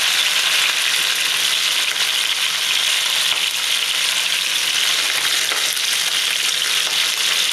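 Steady, loud sizzling and crackling of pork ribs frying in a hot pan, continuous with no talking.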